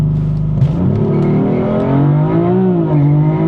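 A BMW M4 with an upgraded intercooler launches with its wheels spinning, a loud, close engine roar whose pitch rises and wavers throughout without settling.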